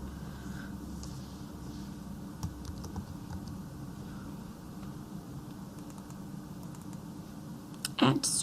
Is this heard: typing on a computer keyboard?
yes